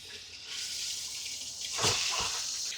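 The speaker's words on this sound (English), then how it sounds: "let's go ahead and turn the water on" Water running steadily from a cheap water-saving RV shower head with no on/off switch, a continuous hiss with a brief splashing surge partway through, close and alone.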